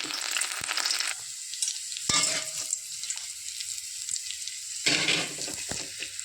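Dried red chillies and garlic hit hot white oil in a pan, setting off a loud, crackling sizzle that surges in bursts as they are stirred, close by with no talk.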